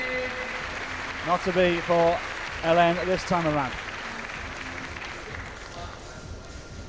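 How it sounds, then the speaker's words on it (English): A climbing World Cup crowd in Inzai gives a polite, thin round of applause that runs as a soft steady patter under a commentator's voice and continues faintly after the talking stops. "they respond in kind with a polite round of applause"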